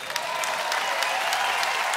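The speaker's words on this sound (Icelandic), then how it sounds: "Endilega að klappa fyrir" Audience applause at a 60th birthday concert, steady dense clapping from a crowd that fills the whole stretch without letting up.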